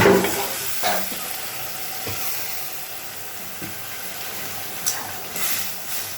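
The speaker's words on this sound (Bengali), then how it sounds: "জল দিয়ে দিচ্ছি" Water poured into okra and poppy-seed curry cooking in a pan, a steady close sizzling hiss with occasional clinks and stirring bumps, no talking.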